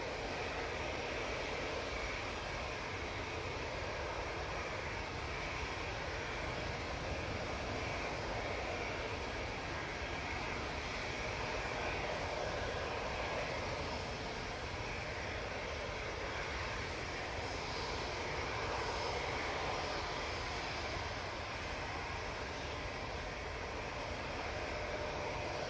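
Constant broadband roar of a TUI Boeing 787-9 Dreamliner's jet engines after pushback at Manchester Airport, a steady distant rumble and hiss that holds level throughout with no voices.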